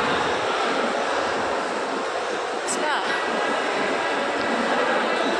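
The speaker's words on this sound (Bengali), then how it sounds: "এখন আমার ট্রেন আসবে" A loud, steady rumbling roar of a train, continuous and close, with a faint voice somewhere beneath the noise.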